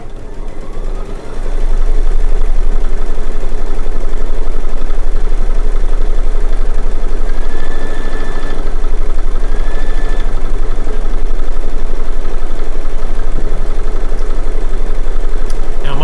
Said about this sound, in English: I'm going to just press the start button. And it's going to stitch out a placement stitch.